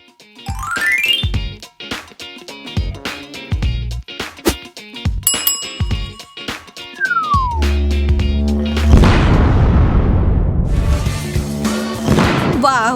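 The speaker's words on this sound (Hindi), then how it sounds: "वो धमाका तो मेरी उम्मीद से भी बड़ा था" A fake whipped-cream-covered cake bursts in a loud, noisy blast that follows a run of chimes, dings and cartoonish sound effects, and the blast trails off into a lingering rush.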